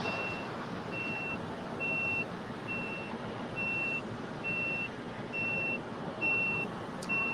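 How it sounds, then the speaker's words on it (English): Truck reversing alarm beeping steadily outside an airport catering building, a regular series of evenly spaced tones over a constant low rumble of traffic and engines, with no talking. "There's constantly trucks reversing into the building."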